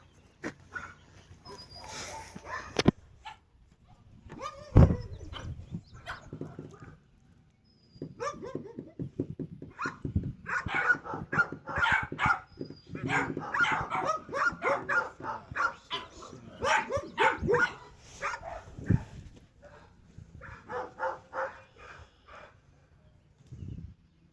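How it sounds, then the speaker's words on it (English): Dogs bark repeatedly from mid-distance, several animals joining in overlapping bursts with a few yips and whimpers, outdoors. "They're out here barking now"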